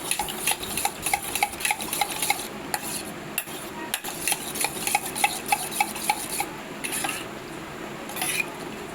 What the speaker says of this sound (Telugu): మిక్స్ చేసుకుంటున్నాం బాగా